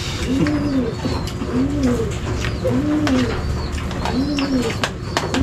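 A dove coos in a repeated, rhythmic pattern, four soft hooting phrases evenly spaced over a steady outdoor background.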